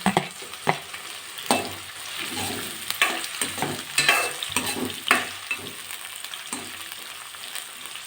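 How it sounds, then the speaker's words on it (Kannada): Chopped onions and tomatoes sizzle in a hot pan for mandakki usli, with steady frying hiss broken by repeated sharp scrapes and clanks of a spoon stirring, fairly close and without talk. "ಇವಾಗ ಟೊಮೊಟೊ ಹಾಕ್ತಿದ್ದೀನಿ"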